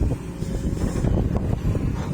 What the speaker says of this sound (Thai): ลมพัดแรงครับ